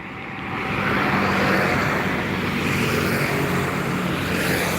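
Buses and trucks passing on the Jalan Lintas Timur highway near Palembang, a broad, loud rushing roar that swells as a vehicle approaches and stays steady with a low engine hum.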